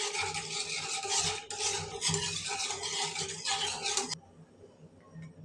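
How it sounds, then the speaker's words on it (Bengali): Milk powder is stirred into a sago dessert with a spoon, a close, rhythmic scraping and rubbing for about four seconds before it stops abruptly, leaving near silence. "এই যে গুঁড়া দুধটা আমি মিশিয়ে নিলাম"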